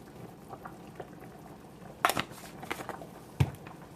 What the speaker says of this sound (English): we're gonna just let this simmer for a little bit